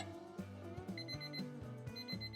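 A kitchen timer alarm rings during cooking with a rapid, repeating electronic melody of bright tones, close and steady for a couple of seconds with no talk.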